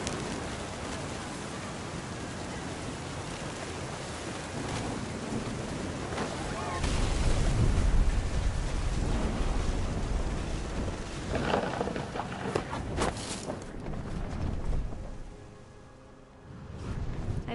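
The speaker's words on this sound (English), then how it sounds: "The thunder sounded much too close and full of angry power." Heavy rain pours steadily through a thunderstorm in the video game What Remains of Edith Finch, with deep rolling thunder swelling up close around the middle and fading near the end.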